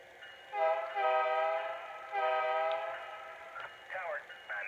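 A Lionel BNSF Genset model locomotive sounds its horn as it pulls out, two long horn blasts followed by shorter fainter toots, fairly quiet against a hushed background.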